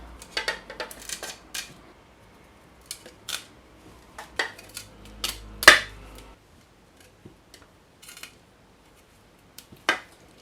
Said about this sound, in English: I'm just going to strip it by pulling it through a small grater